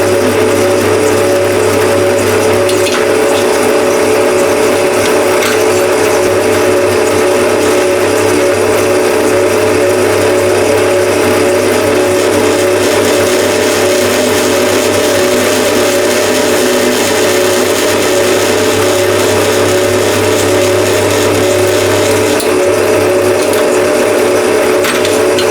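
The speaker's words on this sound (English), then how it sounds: "2 nicely drilled, centered, 1/4 inch holes." Steady loud motor drone of a drill press boring 1/4 inch holes through a knife tang for a scandi-ground partial-tang blade, a constant hum and whir with no pauses, heard close and alone.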